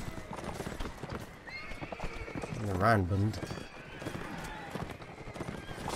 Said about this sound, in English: Ah, they have fast horses.